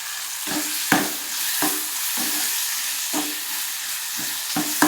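Tomatoes sautéing in a pan for a tomato-onion chutney, a steady soft sizzle broken by several sharp stirring scrapes at uneven intervals, close and fairly loud with no talk.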